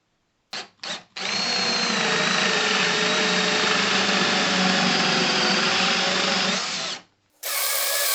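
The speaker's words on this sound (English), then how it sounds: "a 20mm Forstner bit and my trusty Makita cordless drill, I cut out 25 dog holes" A Makita cordless drill with a 20mm Forstner bit whirs loudly with a couple of short bursts, then one long steady run boring dog holes into a wooden workbench top, stopping briefly before starting again.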